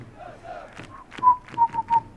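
A virtual stadium crowd in Football Manager 2021 during a Champions League final, giving short rising whistles and shouts in quick bursts, fairly close and clear.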